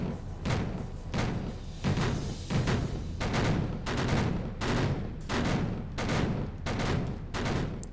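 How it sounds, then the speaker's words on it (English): Baltimore cruisers fire their guns in a Pacific naval combat video game: a rapid series of about a dozen heavy booming shots in irregular succession, each a sharp deep blast with rumbling decay. "Baltimore firing up. Yep, all the cruisers are firing."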